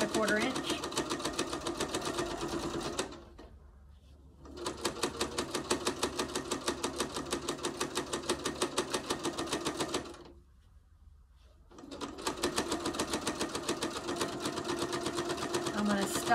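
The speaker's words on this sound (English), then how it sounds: "I'm gonna sew this all the way down at a quarter inch." A sewing machine stitches a quarter-inch seam down fabric for a hot pad, running in a fast, steady mechanical rattle in three long bursts separated by brief pauses.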